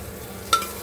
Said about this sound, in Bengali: একটু হালকা ভাজা ভাজা করে নেবো, জাস্ট একটু নাড়িয়ে নিচ্ছি